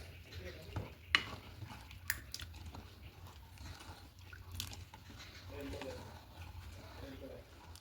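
Date palm jaggery being stirred into a dish makes quiet scraping and stirring sounds with a few sharp clinks of a spoon on the pot, alongside a faint sizzle and some soft talking.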